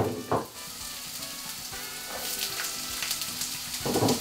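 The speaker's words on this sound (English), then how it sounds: "Add the onions and the peppers to the pan." Onions and peppers sizzle in a frying pan, a close, steady crackling hiss with a few louder bursts and light stirring noises, heard alone without talk.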